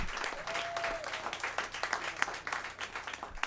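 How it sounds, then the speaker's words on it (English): Audience applause at a CD release concert show, sustained, steady clapping from a full room lasting throughout, with a faint voice briefly over it. "give her a big round of applause"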